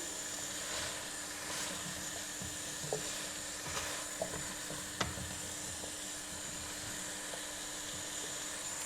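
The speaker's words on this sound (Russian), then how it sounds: "2 минутки обжариваем овощи вместе с картошкой." Vegetables and potatoes frying together in a pan while making borscht, a soft steady sizzle with a few light clicks and scrapes of stirring, no voices.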